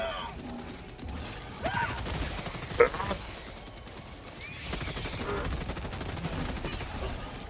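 Bursts of rapid gunfire in the video game Helldivers 2, with sharp single shots among the volleys, under a busy game soundtrack.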